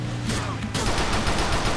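Rapid, dense gunfire in GTA: The Lost and Damned crackles without pause, loud and close, including shots fired from a van, with a brief change in intensity partway through.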